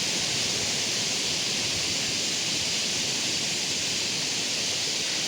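Kothapalli waterfall pouring down, a loud, constant roaring rush of falling water that fills the whole scene, steady and close, with no voices.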